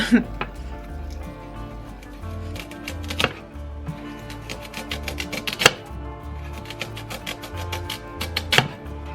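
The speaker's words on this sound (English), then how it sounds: "So I'll show you how I do the slicing of my beets." Beets sliced into thin rounds on a kitchen slicer, a series of sharp crisp strokes recurring at an irregular pace over low steady background noise.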